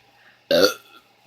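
One loud, rough burp after drinking Pepsi bursts out of near silence and lasts about half a second, then a second burp starts right at the end.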